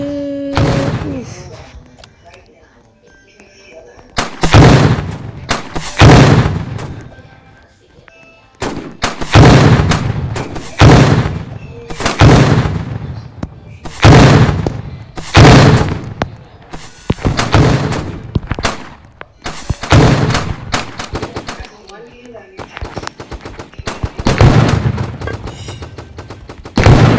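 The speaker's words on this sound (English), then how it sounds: "Okay, that guy had a crossbow. Shotgun. Rocket launcher." Repeated loud gunshot blasts from shotguns and rocket launchers in a Roblox Fortnite game, roughly a dozen sharp booming shots spaced a second or two apart, with a voice talking briefly between them.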